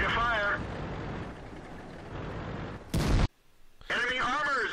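A T28 Prototype tank destroyer's cannon fires in World of Tanks with a single loud, sharp blast that cuts off into brief quiet, set between stretches of engine rumble and radio voice chatter.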